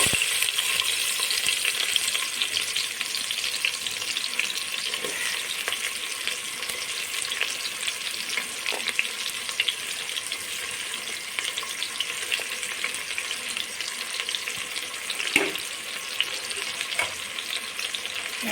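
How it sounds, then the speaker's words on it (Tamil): Onions frying in hot oil for vegetable pulao, a continuous even sizzle with occasional light clinks of a stirring utensil, steady and moderately close throughout. "முதல்ல வெங்காயத்தை சேர்த்துட்றேன்."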